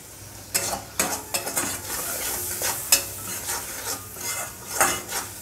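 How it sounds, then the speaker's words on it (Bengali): Ground cumin, salt and Kashmiri chili powder fry in a pan, with steady sizzling under repeated close scraping stirs of a spatula against the pan. "এবার মশলাটা একটু কষিয়ে নেব।"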